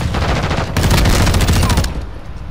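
Rapid automatic gunfire in a Call of Duty: Modern Warfare 2 match, with a steady rattling stream of close, loud shots that cuts off near the end.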